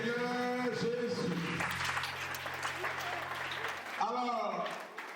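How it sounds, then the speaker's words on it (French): A church congregation applauds steadily for several seconds, warm and sustained clapping filling the room, with voices and a sung or called note riding over it at the start and end. "On acclame le Seigneur Jésus."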